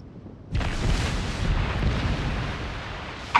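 Naval gunfire in World of Warships, a sudden deep boom that swells into a sustained rumbling roar lasting a few seconds, fairly loud, with a sharp second report at the very end.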